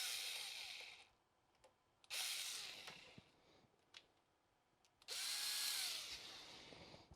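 Handheld power drill with a 1/4 inch bit tightening a clamp, three whirring bursts of a few seconds each separated by quiet pauses with small clicks, the last burst rising and falling in pitch.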